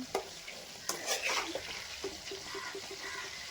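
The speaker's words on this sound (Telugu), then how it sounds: "ముందుగా ఆయిల్ వేసుకుని దాంట్లో వంకాయలు గుత్తి వంకాయలు చిన్న చిన్నగా మధ్యకి ఇలాగా నాలుగు పలకలుగా కట్ చేసుకుని ఫ్రై చేస్తాను ఆయిల్లో" Small eggplants, cut into quarters at the center, fry in oil, a soft low sizzle with a few spatula knocks and a brief stirring rustle near the start, otherwise quiet.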